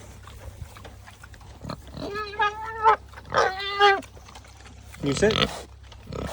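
A pet pig gives a few drawn-out, harmonic grunting squeals in quick succession, close and fairly loud, with a person speaking to the animals around them.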